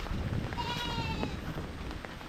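A goat lets out a single wavering bleat out in the rain, over the steady roar of heavy rainfall.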